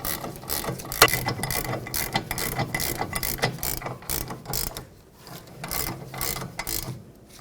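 A ratchet clicks rapidly and loudly in long bursts as caliper bracket bolts are tightened on the rear brake of a Pontiac G6, close up with no voices.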